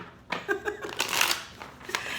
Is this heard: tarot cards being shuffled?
yes